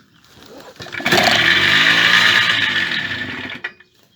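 A Yamaha DT 50MX two-stroke motorcycle fitted with an iridium spark plug cranks and then fires, settling into a loud, steady, buzzy idle for about two and a half seconds before cutting off abruptly.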